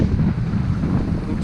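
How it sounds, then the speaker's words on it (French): Strong headwind at sea aboard a small Mini Transat sailing boat, a loud, constant low roar buffeting the microphone with no letup and no voices. "Là ça y est, il y a du vent, on va pas se plaindre, mais il est en pleine face"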